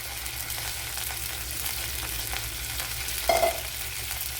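Fennel seeds sizzle in a tablespoon of hot coconut oil for a cauliflower dish, a steady crackling fry over a low background hum, with one brief louder clatter near the end. No one speaks.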